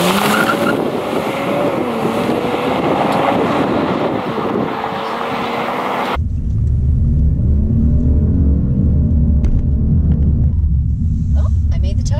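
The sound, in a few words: Kia Stinger car tires squealing on race track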